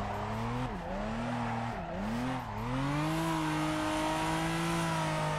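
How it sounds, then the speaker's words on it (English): A fourth-gear burnout in the Assetto Corsa racing game, the car engine revving hard and dipping in pitch a few times before holding a sustained high whine under a broad, continuous tire-skid hiss, loud with no talk. "A little fourth gear burnout,"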